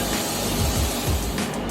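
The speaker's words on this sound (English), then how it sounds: "I'm gonna spray the chicken right in the pan with the spray on coconut oil" Spray-on coconut oil misted from a can onto chicken in a pan, a steady close hiss running the full length with slight pulsing and no talk.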